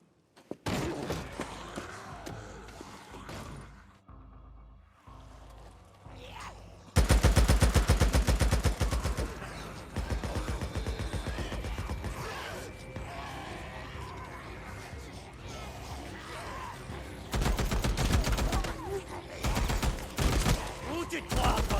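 Sustained automatic gunfire from Days Gone, loud and near, with dense rapid bursts and thuds beginning after a quieter stretch and continuing to the end, with occasional voices underneath.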